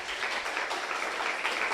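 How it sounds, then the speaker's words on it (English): An audience applauds, a brief burst of dense, steady clapping heard from a short distance with no voices over it. "Everybody, give Jeremy a round of applause, please."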